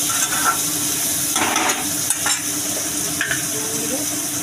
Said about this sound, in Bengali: পেঁয়াজটাকে একটু ভালো করে ভেজে নিতে হবে।